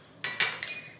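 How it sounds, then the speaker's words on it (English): Ice cubes dropped into a cocktail shaker while making spicy margaritas, three or four bright clinking knocks in quick succession, close and crisp with no talking. "let's pop these ice cubes"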